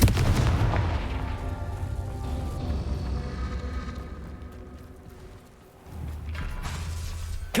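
Repeated fire-spell explosions from the Confringo spell in the Hogwarts Legacy video game, heavy low booms and blasts running close and loud throughout, easing briefly before a renewed burst.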